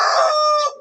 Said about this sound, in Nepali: कुखुराको भाले चाहिँ मर्निङमा प्रायः जस्तो क्या मर्निङमा उसको कराउँछ भन्थ्यो नि त